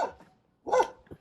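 A dog barks at a roadside gas station with fuel pumped straight from a tanker vehicle, giving one short bark, a pause, then a louder, sharper burst of barking followed by a faint yip, fairly close.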